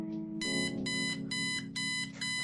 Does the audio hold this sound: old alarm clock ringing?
yes